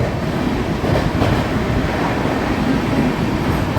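The Cocanada Express runs through Yadagiri railway station, heard from on board as a loud, continuous rolling rumble with rhythmic wheel clatter and no voices.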